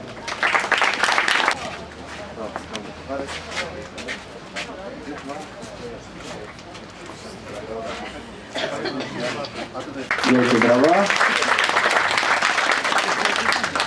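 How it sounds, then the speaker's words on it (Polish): Outdoor audience applause for the third-place winner of a city flower-display contest, with a clear burst at the start, a quieter stretch with chatter and birds, then a stronger, sustained round of clapping near the end. "Wielkie brawa."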